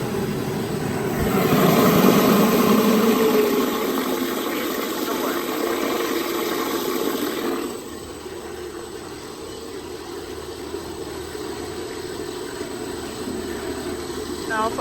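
A vacuum reactor's stirring motor running at 1000 RPM, a steady close whirring hum that drops a step in loudness partway through and keeps going, with a person talking over it.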